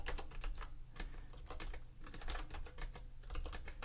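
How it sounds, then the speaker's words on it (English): Close, soft typing on a computer keyboard: a steady, quick patter of light key clicks running continuously for a few seconds at low volume. "And I'll just type in,"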